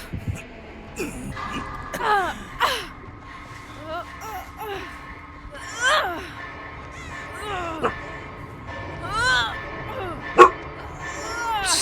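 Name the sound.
dog barking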